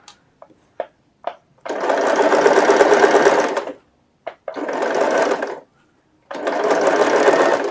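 Sewing machine stitching a readymade garment neck, running in three sustained whirring bursts of a few seconds each, with a few short ticks from the needle before the first run, loud and close, no talking.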